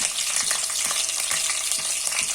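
Green chillies fry in oil with whole spices for a meal maker, potato and green pea curry, giving a steady, close hiss of sizzling with faint scrapes of stirring throughout, no voices.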